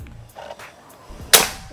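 One sharp PCP air rifle shot (Predator Bocap Black Army Phantom) cracks out near the end, preceded by quiet handling clicks and low background noise.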